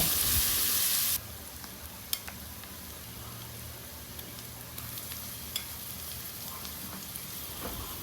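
Onion and green chili fry in mustard oil with a continuous low sizzle, a brief louder burst at the start, then steady crackle with occasional faint clinks of a spoon.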